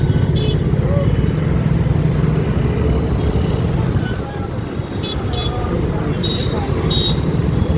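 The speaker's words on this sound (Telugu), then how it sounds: "Traffic jam." Dense traffic jam on a Hyderabad road, with a steady roar of motorcycle, car and bus engines close by, a few short horn toots near the end, and voices talking over the din.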